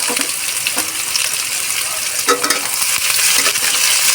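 Steady close sizzling of onions frying in a pan, with occasional scrapes and clinks of stirring throughout.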